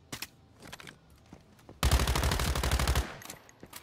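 A gun in the game Once Human fires a sustained rapid burst of automatic shots lasting just over a second, loud and close, preceded by a few scattered faint clicks and thuds.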